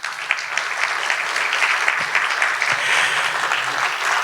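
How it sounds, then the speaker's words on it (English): An audience applauds the panel of judges at an oral presentations event, a steady, even wash of many hands clapping at moderate loudness for several seconds with no talk over it. "Will you all please give them a big round of applause?"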